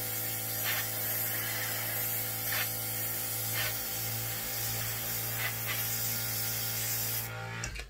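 Steady hiss of black spray paint being applied to an 00 gauge model Scottish tower house, a continuous airy spray with faint hum underneath that runs for several seconds and then cuts off.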